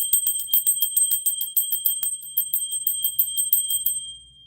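Bells, cymbals and chimes rung for scrying, a rapid run of bright metallic strikes with long ringing tones that sustain and fade, close and fairly loud with no talking.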